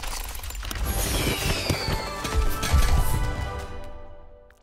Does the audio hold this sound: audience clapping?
no